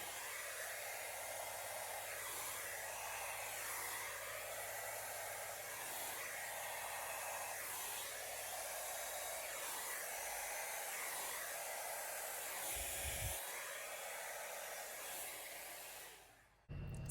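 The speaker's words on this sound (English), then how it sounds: "the next thing I'm gonna do is use the blow dryer" A blow dryer runs steadily with a quiet whirring hiss, its tone swelling and dipping rhythmically as it sweeps over wet acrylic paint, then clicks off at the end.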